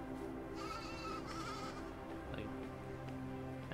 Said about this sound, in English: Just normal sheep, normal two polygon sheep.